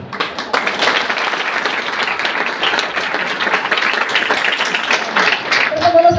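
Sustained applause from an audience, dense and steady for about six seconds, with a brief voice rising near the end.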